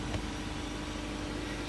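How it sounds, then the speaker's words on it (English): A car on a main street runs at a steady idle, a low, faint engine drone heard from a short distance with no one talking. "So about the car noise in the background. I am on a main street and one of my residents just started their car."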